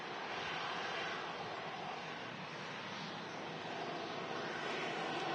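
A Ryanair airliner arriving at Manchester Airport after a flight from Shannon, a steady, faint broadband jet roar held at a distance with no talk.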